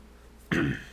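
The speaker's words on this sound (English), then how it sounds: "I gotta clear my throat for this" A single short throat clearing, close and fairly loud, breaks a quiet background halfway through.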